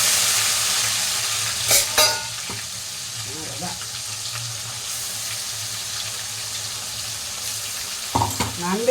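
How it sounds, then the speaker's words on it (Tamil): Ground masala and curry leaves dropped into hot oil for a crab gravy, sizzling and frying steadily with a few clattering stirs and scrapes of a utensil on the pan. "கருவேப்பிலை போட்டு அரைச்ச மசாலாவை அதில் போட்டோம்."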